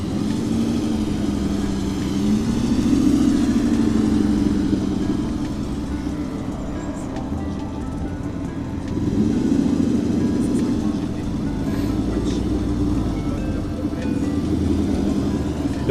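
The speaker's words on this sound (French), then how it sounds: "Alors là nous avons une Ferrari 250 GT qui arrive." A Ferrari 250 GT drives past at an Italian car meeting on the Montlhéry autodrome, its engine a steady mid-pitched drone that swells and fades twice at moderate distance under a continuous background rumble.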